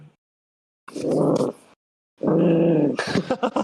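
A dog growls in two low, rumbling bursts separated by a short silence, close to the microphone. The second burst is longer and breaks into rougher, choppier snarls at its end.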